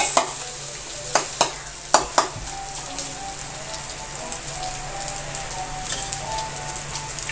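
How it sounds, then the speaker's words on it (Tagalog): Sisig pieces fry in a pan in a home kitchen, a steady close sizzle broken by a few sharp clicks and stirring knocks of a utensil against the pan. "nagluluto si daddy ng pieces"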